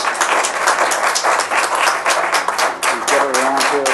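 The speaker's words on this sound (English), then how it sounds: "This is the round of applause." A room full of people gives a round of applause at a volunteer of the year award presentation, steady broadband clapping throughout with a voice speaking over it near the end.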